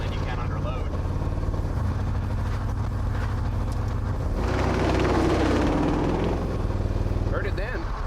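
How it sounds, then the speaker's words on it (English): A Mazda B2500 pickup engine idles and runs at light throttle with a low, steady rumble and a faint mechanical rattle, rising briefly in the middle, while people talk over it. "that rattle, you can hear it more at very light throttle,"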